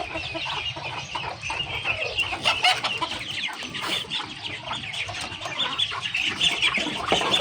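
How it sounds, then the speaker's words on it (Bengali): Several chickens cluck and chatter continuously close by as they come out on a small farm in the morning, a busy overlapping flock sound with occasional sharper calls. "এখানে মুরগিগুলো সব বের হয়ে আসছে"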